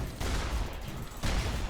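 A shotgun firing in the game Secret World Legends, two heavy blasts about a second apart, each a loud, broadband burst with a sustained rumbling tail.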